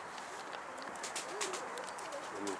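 Pigeons cooing in short, soft low-pitched phrases, fairly close, over a steady background hiss with some faint higher bird chirps.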